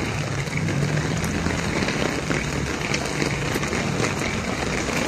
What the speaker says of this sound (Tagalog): Lumakas ang ulan na naman.